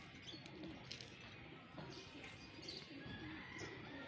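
A golden pigeon of full size cooing softly in a loft, low murmuring coos repeating under faint chirps and a bit of wing flutter, moderately distant and fairly quiet against a steady background hiss.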